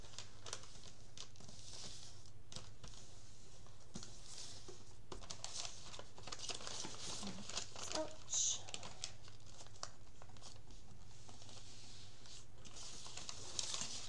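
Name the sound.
paper edges being folded in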